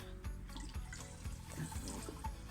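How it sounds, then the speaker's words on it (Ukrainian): Water pours into a watering can to mix a grape spray outdoors in autumn, a faint steady splashing and gurgling with a few soft thumps, no talk. "Треба додати водички."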